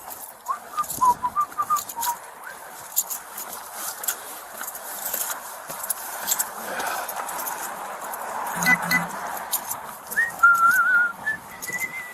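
A person whistles a meandering tune in short bright phrases, fairly close, over soft background noise and occasional faint clatter.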